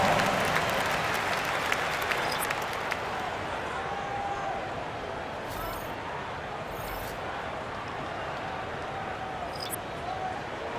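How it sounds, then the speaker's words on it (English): Arena crowd applauding in the NBA 2K25 basketball video game during a Knicks–Lakers timeout, a broad, even wash of clapping and crowd noise that starts louder and settles into a steady hum. "Round of applause."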